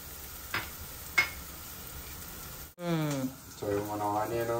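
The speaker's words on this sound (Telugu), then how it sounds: "సో మన ఆనియన్, జింజర్, గార్లిక్ కొంచెం వేగుతున్నాయి." Onion, ginger and garlic fry in a pan for restaurant-style vegetable Manchurian, giving a steady low sizzle with two sharp stirring knocks, then a voice talks over the continuing fry.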